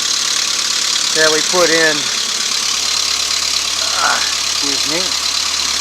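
A Beta 38 hp marine diesel engine on a sailboat idles steadily with a close, even mechanical drone while someone talks over it.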